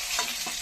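Fish coated with salt and turmeric fries in a pan, giving a brief, steady sizzling hiss with a soft stir or two.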